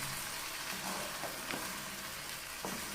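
Ginger-garlic paste is stirred into mutton chops in a large pot, giving a soft, low sizzle with faint scraping stirs at intervals, quiet and close, with no voices.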